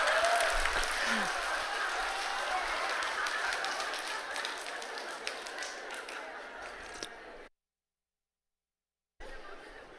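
A church congregation at a revival service laughs and claps together, a faint, continuous mix of scattered clapping and laughter. After a short silence it briefly resumes.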